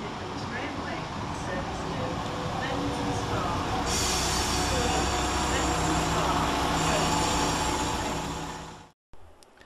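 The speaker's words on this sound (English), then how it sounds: "here comes our train in the form of 172-211" A West Midlands Railway class 172 diesel multiple unit rumbles into Kenilworth station steadily, a broad continuous roar with a brief high hiss midway, loud and close, cutting off abruptly near the end.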